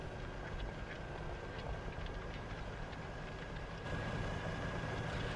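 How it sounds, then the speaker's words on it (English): A tractor engine pulls a rear cultivator in the Farming Simulator 15 video game, a steady loud drone with constant rumble that swells slightly toward the end. "I noticed you can hear the tractor quite well."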